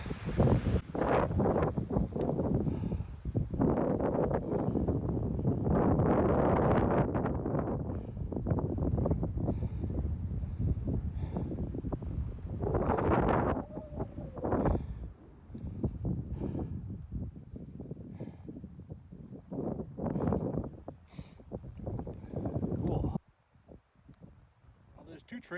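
Strong gusting wind buffets the microphone on a Rockies mountain day hike near Devil's Gap, roaring steadily with rising and falling surges, while someone talks intermittently over it.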